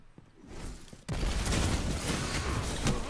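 Dense gunfire in a Destiny 2 player-versus-player Rumble match, a sudden loud sustained burst of rapid shots after a quieter lead-in.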